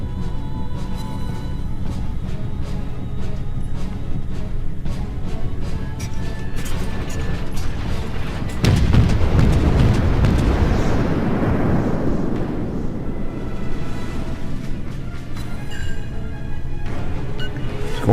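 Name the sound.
warship main battery guns firing, from the video game World of Warships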